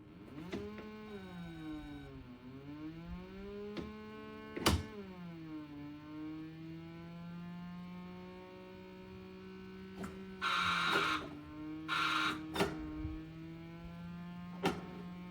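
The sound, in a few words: Pole Position arcade racing game played on MAME cabinet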